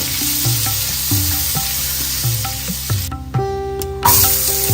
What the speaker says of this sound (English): You need butter in a hot pan. Add jeera.